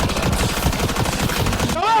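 Rapid automatic gunfire from a weapon in the video game Mass Effect Andromeda rattles in a dense, fast burst, loud and close, ending with a brief electronic whine.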